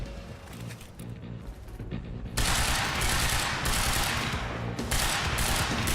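Dense, sustained bursts of automatic gunfire in the video game Quantum Break, a loud rattling barrage that gets heavier partway through and carries on without pause.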